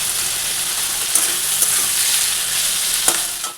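Meat frying in a pan, a loud steady sizzle throughout with a few faint scrapes and clinks of a utensil, close and uninterrupted, no talking.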